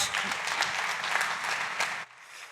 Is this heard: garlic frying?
no